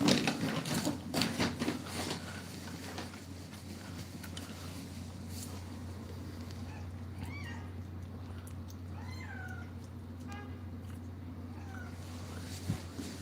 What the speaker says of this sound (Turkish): Kedi arıyoruz arkadaşlar. Kedi çıktı.